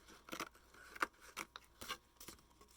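Scissors snip through craft kit material in several short, quiet cuts at an uneven rhythm, close by and faint, with light rustling between snips.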